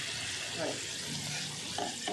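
Ground chutney hitting a hot mustard-seed tempering in oil, giving a steady close sizzle and frying hiss with some stirring, no voices.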